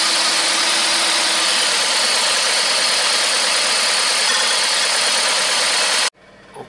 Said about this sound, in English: now engine is running even badly. It vibrates really badly.